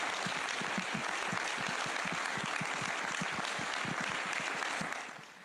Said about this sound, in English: I would like to ask everybody a big round of applause